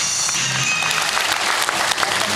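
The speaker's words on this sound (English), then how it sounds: "that's the guy having a nice round of applause for Zoe" A crowd at a marine park sea lion show claps for Zoe, a South American sea lion, with brisk applause filling the short stretch and a voice faintly underneath.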